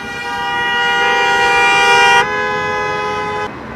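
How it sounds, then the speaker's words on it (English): A car horn honking in traffic in China, a loud, sustained, close blast that changes pitch partway through and then drops back, held for several seconds. "I think everybody's honking because of me"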